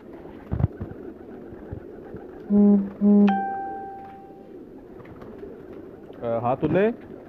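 Rooftop pigeons in a Faisalabad loft coo in the background while a voice breaks in with a few loud, drawn-out tones and brief noises nearby.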